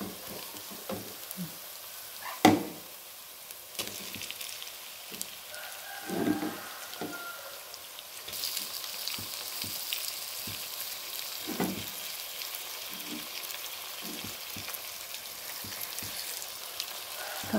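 Chopped tomatoes frying with browned onions for chicken masala give a steady, rain-like sizzle with scattered stirring knocks and scrapes, moderately close, growing a little denser in the second half with no talking.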